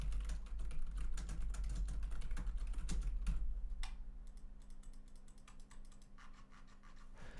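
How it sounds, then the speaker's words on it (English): Rapid, steady typing on a computer keyboard, picked up by an Audio-Technica AT2020 microphone, busy clatter at first, then sparser keystrokes with a quiet hum underneath. "Now I'll do it again, just typing."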